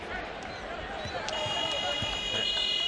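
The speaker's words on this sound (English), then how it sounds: "And now the shot clock buzzer goes off, and a little malfunction." A shot clock buzzer at an NCAA men's basketball game between Boise State and Colorado State malfunctions, sounding a steady high electronic tone that starts partway through and keeps going over the arena crowd noise and an announcer's voice.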